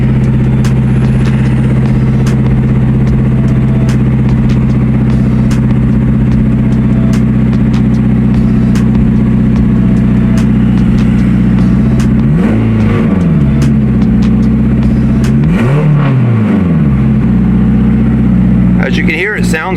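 A Honda S2000 CR sports car engine idles with a steady low rumble, then revs up sharply twice, each rise falling back to idle, loud and close.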